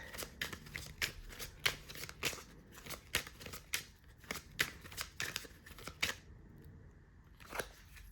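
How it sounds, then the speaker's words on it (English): A long stretch of tarot cards being shuffled, quick crisp riffling bursts in an uneven rhythm, close and fairly quiet, with a brief pause near the end. "A long shuffle."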